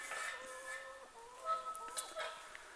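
Hens cluck softly in a garden orchard on a fine day, giving a few scattered, faint clucks and short calls against a quiet outdoor background.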